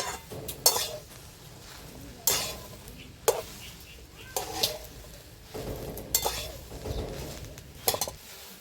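Okra dry-roasts in a pan without oil, the quiet scorch broken by sharp, irregular clinks and scrapes of a spatula against the metal every second or so.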